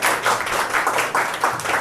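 A church congregation claps along in steady, rhythmic bursts, the applause dense and close and continuing throughout without a break.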